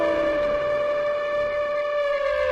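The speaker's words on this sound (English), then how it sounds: "Here come the sirens." Loud wailing sirens close by, a sustained rising and steady tonal howl filling the whole stretch with no voices.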